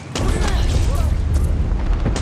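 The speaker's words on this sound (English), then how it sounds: "Explosion." A loud, rumbling explosion in Far Cry 6 booms and rolls on with crackling debris, while a voice talks over the chaotic noise.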